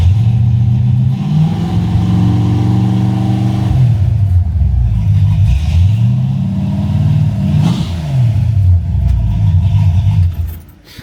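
A 1956 Chevrolet with a small block 355, forged TRW pistons and a Comp 268 cam, revving loudly through mufflers, with a deep, rumbling idle that swells in several throttle blips, close and steady.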